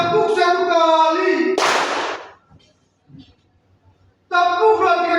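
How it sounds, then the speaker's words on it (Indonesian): A single sharp, loud collective clap from a classroom of students, one burst between stretches of a teacher speaking. "Tepuk 1 kali."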